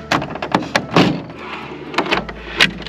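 A folding table being raised inside a van gives a quick series of knocks, clunks and thumps, some sharp and some dull, close by with short pauses between them.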